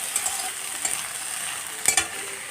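Shrimp frying lightly in a pan, a soft steady sizzle with a few quiet clinks of stirring and one brief louder scrape near the end, no voices.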